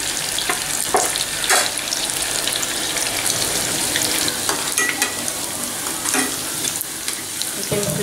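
Vermicelli pakodas fry in hot oil with a steady, loud bubbling sizzle, while a spatula scrapes and turns them with intermittent knocks.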